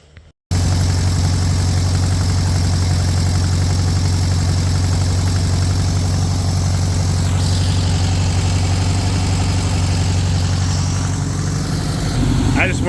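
A 1600cc air-cooled VW dual port engine in a street-legal dune buggy idles steadily and close by, a loud, even low rumble with a fast, regular beat that holds unchanged after a brief quiet start.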